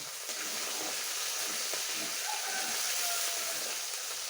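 Chopped tomato hisses in a hot pan with ginger and garlic, giving a steady, even sizzle that holds at one level throughout and has no voices over it.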